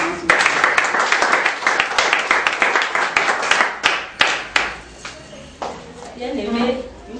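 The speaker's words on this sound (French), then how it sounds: "Sur vos applaudissements." Audience at a church Christmas anniversary gathering applauding, with distinct, uneven hand claps from a smallish group close by, thinning out toward the end as a voice begins speaking.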